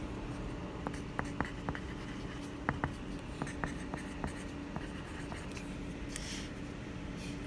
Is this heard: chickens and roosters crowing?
no